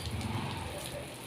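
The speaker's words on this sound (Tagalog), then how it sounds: "Diligan po muna natin ang kalsada" Steady broadband hiss of water spraying onto a hot road, close and continuous, with a faint murmur of talk underneath.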